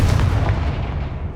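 A Confringo spell blast from Hogwarts Legacy erupts as a loud, close, booming fiery burst with a deep low-end thump that decays over a second and a half.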